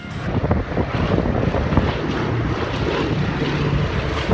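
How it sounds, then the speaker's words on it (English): A B-17 Flying Fortress bomber rumbles loudly overhead at a towered airfield, a deep continuous engine drone with gusty wind buffeting the microphone. "I just love to hear that flying fortress roar overhead."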